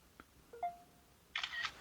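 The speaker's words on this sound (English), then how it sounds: "I hear the sound, the shutter sound. It's taking a picture." Blackview BV100 AI smart glasses play a faint electronic shutter effect when taking a picture: a short beep and tone, then a brief bright click-burst, quiet and close in an otherwise silent room.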